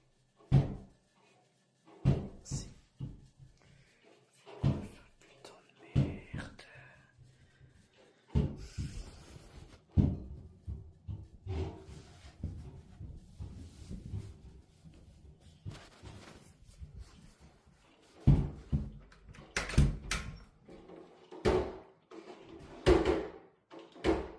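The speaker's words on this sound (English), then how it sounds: "something starts pounding on her door" Someone pounds on a house door at night with sharp knocks and thuds in irregular clusters, some loud and close, others softer, separated by quiet gaps.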